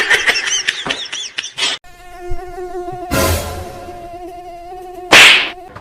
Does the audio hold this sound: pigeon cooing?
no